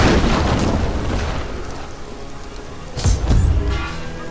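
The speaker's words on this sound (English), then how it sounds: "Belial is raining fire down on the city in a desperate attempt to kill us" Fireballs raining down on a city in Diablo 3, a dense roaring rumble like heavy rain with a louder crashing impact burst about three seconds in, full and close.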